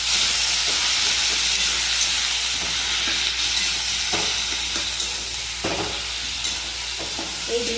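Onion, tomato and green chilli fry together in hot oil for a dhaba-style egg bhujia. A steady, bright sizzle hisses throughout, broken by a few soft scrapes of stirring.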